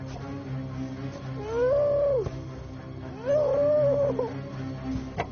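A dog howls twice in a long, rising and falling wail, each howl lasting about a second, fairly close and loud over a low steady background hum.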